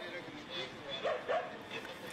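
Dog barking in Ibagué, a loyal dog guarding its owner who lay asleep on the ground; two short yelping barks stand out close by mid-clip over background broadcast noise and voices.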